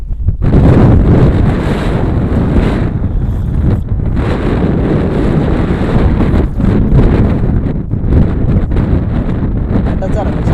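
Strong wind gusts roar against the microphone outdoors, a loud low rumble that swells and dips over ten seconds while someone talks over it.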